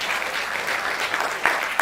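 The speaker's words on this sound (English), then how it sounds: "give yourselves a resounding round of applause" Applause from a debate audience, a thick wash of clapping throughout, with a couple of sharper, louder claps near the end.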